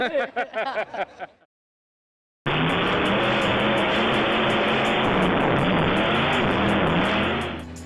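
A race car is driven hard, starting loud and near after a short burst of sound and a gap, with a sustained dense roar of engine and road noise that holds steady to the end.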